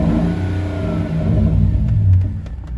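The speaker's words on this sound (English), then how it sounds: "the Flowmaster is really doing its trick. It's straight piped, and it sounds pretty good." A Range Rover engine breathes through a straight-piped Flowmaster exhaust in a loud, close rev that swells and fades with a whiny rumble and a few sharp crackles near the end.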